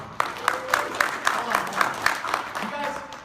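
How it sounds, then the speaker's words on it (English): A small but enthusiastic convention audience at HeroesCon claps steadily, with distinct individual claps in an even rhythm over a few seconds, moderately close. "Let's have a big round of applause for HeroesCon."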